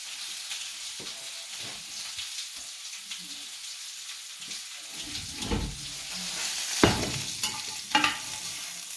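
Pork chops sizzle and crackle in a hot pan, a steady hiss punctuated by stirring scrapes and louder bursts of spitting fat.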